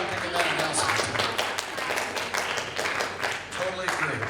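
An audience claps during a school class ring presentation, a steady wash of applause running throughout while voices talk over it.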